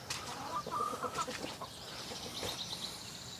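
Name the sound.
chickens clucking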